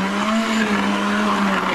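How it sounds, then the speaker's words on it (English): A blender runs at full revs churning chunky fish with bones, a loud, strained motor whine holding a steady pitch with a rough, gritty grinding underneath. "So you give it a blend up like this, full revs with the blender."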